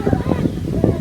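Strong wind blows through a garden beside a convention centre, buffeting the microphone in a loud, continuous rumbling gust with voices shouting over it.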